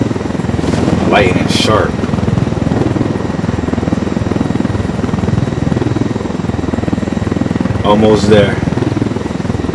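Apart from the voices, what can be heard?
helicopter flight in video game Ghost Recon Wildlands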